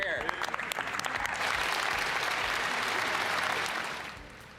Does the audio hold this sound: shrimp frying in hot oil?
no